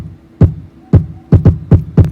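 A kick drum made from a fart sample, distorted and heavily equalized, hits six times as booming, throbbing low thumps. The beat pattern is loud and clear, with no voices over it.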